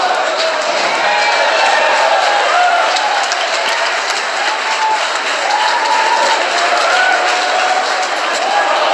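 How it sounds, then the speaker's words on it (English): A crowd cheers and applauds continuously in the background, a dense wash of voices and clapping with occasional whoops rising above it; SpaceX team during a rocket launch. "You may have heard the SpaceX team cheering in the background."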